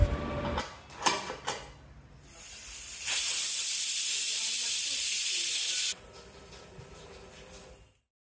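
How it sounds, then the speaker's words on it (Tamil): A pressure cooker on a kitchen stove at medium flame, cooking a coconut milk vegetable stew, lets out a loud, sustained hiss of steam for several seconds after a few short clatters, then dies away. "குக்கரில் மீடியம் ஃப்ளேமில் 2 விசில் வச்சு அடுப்பு ஆஃப் பண்ணிடலாம்"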